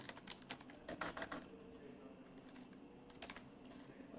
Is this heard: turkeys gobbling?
no